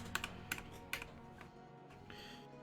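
A few quick, light clicks on a glitchy computer keyboard, close and faint, tapering into quieter taps with no talking.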